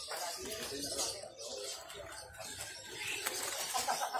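Zebra doves coo among other caged birds calling at a Pramuka bird market kiosk in Jakarta, a busy, dense chorus with a voice talking underneath throughout.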